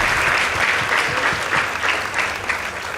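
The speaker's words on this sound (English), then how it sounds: "Please give them a round of applause" A room full of people at a school debate competition clap steadily and continuously, a dense wash of applause with no voices standing out.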